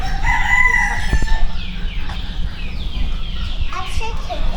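Chickens on a Thai farm cluck and a rooster crows loudly nearby, a busy flock chorus with overlapping calls and steady background noise.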